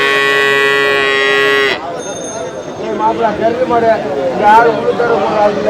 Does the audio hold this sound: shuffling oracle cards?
no